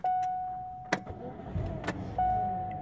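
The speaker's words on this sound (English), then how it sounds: "and the car start right up." A Chevy Cobalt's engine cranks briefly and catches after a key chime tone, settling into a low idle rumble, close and moderately loud inside the car.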